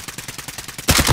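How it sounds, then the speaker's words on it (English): Rapid automatic gunfire from Call of Duty: Modern Warfare, a steady rhythmic burst of shots at close range that swells louder near the end. "They're firing at people."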